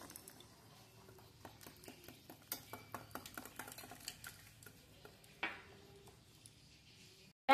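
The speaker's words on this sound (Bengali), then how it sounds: "এইভাবে ব্যাটারটাকে ফাটিয়ে নিতে হবে" A batter of egg and water for Lote fish (Bombay duck) pakoras is beaten in a bowl, giving quiet, quick rhythmic clicks of the utensil against the bowl that build in the middle and then fade, with no voices.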